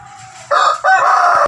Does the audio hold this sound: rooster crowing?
yes